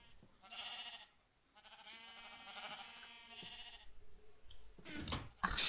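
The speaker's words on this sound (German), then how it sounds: "Ach, Schafe" Sheep in the Minecraft video game bleating in several short, wavering calls with pauses between them, fairly close and clear, followed by a couple of brief clicking sounds at the end.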